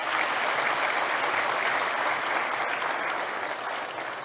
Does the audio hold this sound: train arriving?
no